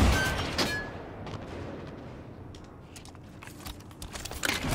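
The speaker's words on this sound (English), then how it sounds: "the SPNKr rocket launcher has a much faster rate of fire than the standard rocket launcher for Halo 5" Halo 5 video game rocket launcher shots from the SPNKr and standard launcher, a few sharp bursts with trailing rumble and explosions, moderately loud with no talking.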